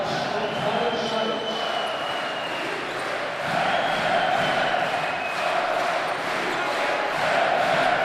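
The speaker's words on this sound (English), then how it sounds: "Here comes the crowd again." A large arena crowd at a Slovenia versus Croatia EuroBasket 2013 basketball game roars and cheers steadily, rising in waves, with an announcer's voice talking over the noise.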